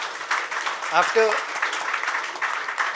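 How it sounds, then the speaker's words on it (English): An audience at a book launch event applauds in a continuous, moderate patter, with a brief vocal whoop or cheer rising over the clapping near the start. "Round of applause."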